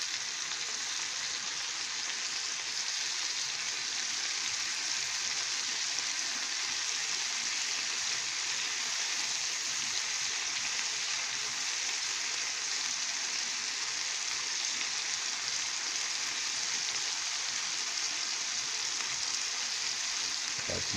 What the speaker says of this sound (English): Let the oil get to all of them by tilting the pan. And we're flipping every individual piece.